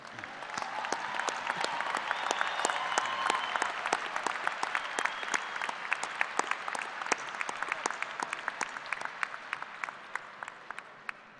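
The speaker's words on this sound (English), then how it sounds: "Let's give a round of applause to all of our graduates." Sustained applause from a large commencement audience honoring graduates at a Kansas State agriculture ceremony, a dense wash of many hands clapping that swells early and holds steady throughout, with sharper individual claps standing out.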